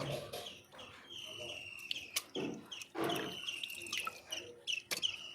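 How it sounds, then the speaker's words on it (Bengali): Raw chicken pieces are rinsed by hand in water, with irregular splashing and sloshing bursts and drips, while birds chirp in the background. "2 থেকে 3 বার ভালো করে চিকেনগুলো ধুয়ে নিলাম, এটা লাস্ট ধোয়া"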